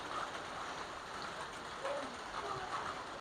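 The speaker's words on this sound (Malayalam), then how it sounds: "ഇപ്പോഴും നല്ല മഴയാണ്" A steady, dense hiss of heavy rain pours down without a break, even and fairly close, wetting the microphone.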